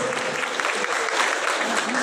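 Crowd applause at a Hooghly district union conference, dense sustained clapping from a nearby audience, loud and even throughout.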